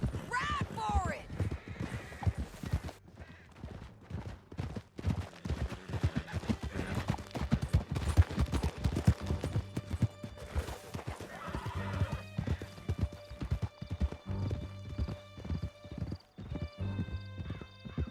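Horses gallop with rapid, steady hoofbeats in Red Dead Redemption 2, with a whinny near the start, riders' shouts and game music mixed in, the pounding continuing throughout.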